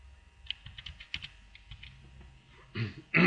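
Fingers type on a computer keyboard in a quiet room, a run of light, irregular clicks and taps, with a couple of louder bursts of clatter at the end.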